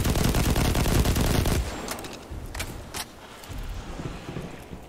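A loud burst of machine-gun fire from a Destiny 2 match opens the sound, then it gives way to sparse, quieter single shots and faint clicks.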